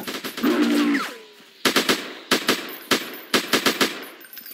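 Bursts of AK rifle fire in a video game ring out in short rapid volleys, some spaced apart, after an opening stretch of rising electronic whine and a tonal hum.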